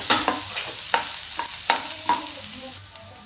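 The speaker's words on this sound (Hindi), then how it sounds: "अब इसमें डालेंगे ये देखिए लहसुन, प्याज। अब इसको हम फ्राई करेंगे।" Garlic and onion frying in a pan, with a close, continuous sizzle punctuated by sharp spatula scrapes and stirring strokes at an uneven rhythm.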